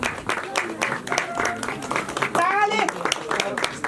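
Clapping from the audience at a music video launch ceremony runs in sharp bursts beneath someone speaking over a microphone.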